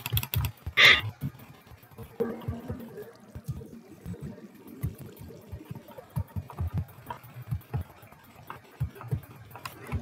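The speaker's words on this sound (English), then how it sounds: "Sorry about the aggressive clicking." Rapid computer mouse and keyboard clicking during a Minecraft session, with irregular close taps running throughout and one sharper burst near the start.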